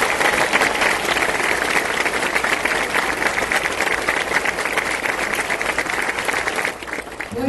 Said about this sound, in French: avec un fort applaudissement, recevons notre sœur Mara-Luisa.